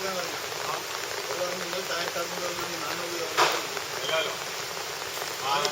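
Rain falls in Thalassery as a steady, even hiss of drops on surfaces, moderately close and continuous, with a brief louder splash partway through.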